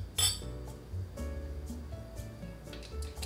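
A spoon clinking against a bowl while stirring apple cider vinegar with oil for a summer salad dressing, a sharp metallic tap followed by soft repeated scraping and clinks, close and alone.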